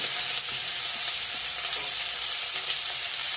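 Whole cumin seeds, onion and garlic frying in hot oil in a pan, a steady loud sizzle that holds without a break and carries no talk.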